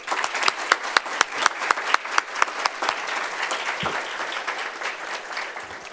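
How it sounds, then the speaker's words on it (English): An audience at a student government inauguration and installation ceremony gives a round of applause, a dense, steady clatter of many hands with a few sharp individual claps standing out near the start, fairly close and without speech. "Please join me in giving them all a round of applause."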